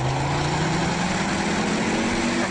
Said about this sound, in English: One of my favourite parts of this car is the sound of the engine.